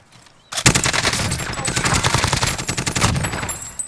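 Light machine gun in the Resurgence video game firing a long, rapid, unbroken burst of loud shots, close and dominant, running for about three seconds after a quiet start.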